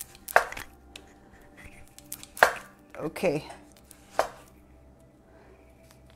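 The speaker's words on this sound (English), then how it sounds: "So I'm going to cut all of the vegetables." A knife chops vegetables on a cutting board for Mexican ceviche, with about five sharp, separate chops spaced unevenly and one brief spoken word.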